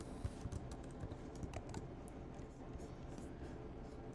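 Steady, busy typing on a computer keyboard while coding a to-do app in Swift, the key clicks close and continuous with no talking over them.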